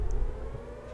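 Civil defense sirens hold a steady, distant wail, a low continuous drone with no other sounds over it.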